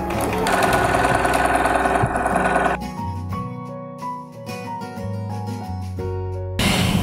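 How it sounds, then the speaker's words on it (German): A Bernina sewing machine runs a straight stitch along a hood seam sewn right sides together, its steady motor whir mixed under louder background music. "Jetzt nähen wir die Kapuze mit einem Geradstich rechts auf rechts zusammen."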